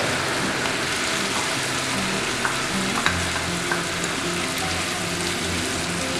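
Chicken sautéing over a medium flame with coriander and mint leaves, giving a steady, dense sizzle and crackle that fills the whole stretch, with occasional faint stirring clicks and no voices.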